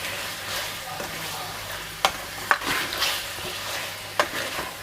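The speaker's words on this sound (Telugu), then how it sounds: "మంచిగా అయితే నూనె ఇట్లా వేగిస్తా ఒక 2 మినిట్స్." Chicken curry frying in hot oil with a steady sizzle, a spoon scraping and stirring the pan, and a few sharp clinks against the pot, close by.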